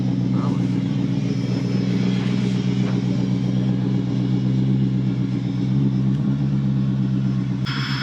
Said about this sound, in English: I think they wiped out the mufflers when they got stuck